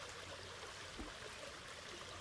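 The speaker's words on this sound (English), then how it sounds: "We have the flow of the water in the background to help us connect with saying yes, going with the flow." Soft, steady rush of a flowing stream runs quietly in the background, a continuous broadband wash with no other sounds standing out.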